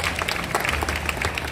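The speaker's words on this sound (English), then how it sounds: "Let's give a round of applause for helping out today." Audience applause for a volunteer at a live show at Disney's Animal Kingdom, a short burst of dense clapping from a crowd.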